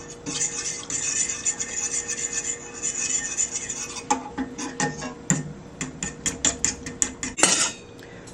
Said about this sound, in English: Next we're going to add in that ½ cup of milk and just whisk it until the soup starts to thicken.